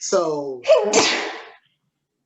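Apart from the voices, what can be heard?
sneeze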